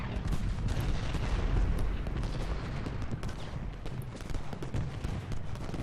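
Artillery fire in the Civil War strategy game Ultimate General: Gettysburg, a dense continuous rumble of overlapping cannon booms and gunfire with no break, loud and steady.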